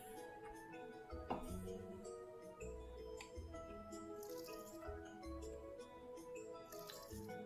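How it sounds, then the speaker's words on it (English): Soft dripping and splashing of water as crops are watered in the farming game Wild Season, repeated several times over gentle background music. "we can water the rest of these."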